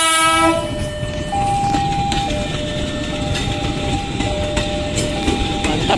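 A KRL commuter train passes at night, its steady rolling rumble holding throughout while sustained horn tones sound over it, loud and close.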